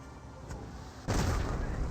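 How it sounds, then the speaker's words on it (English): A Company of Heroes mortar barrage lands on a slit trench: a faint thump, then a heavier rumbling impact over a steady low battlefield background, quiet and distant. "Mortar barrage onto the slit trench there."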